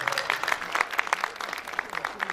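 Audience applause at an evening stage event held with the Rawalpindi Arts Council: a short burst of many hands clapping in a rapid, uneven patter, moderately loud with a faint hint of voices.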